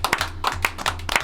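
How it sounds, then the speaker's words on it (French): A handful of people clap for a grandmother in quick, fairly regular bursts, close and crisp, with a low hum underneath between the claps. "D'accord, nous applaudissons, mamie."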